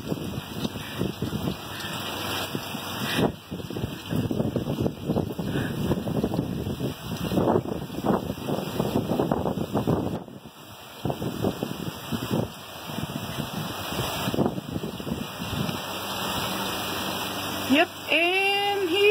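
Storm wind and pouring rain, with small hail, roar steadily around a man mowing his lawn, a dense broadband rush with gusty swells, while people talk over it.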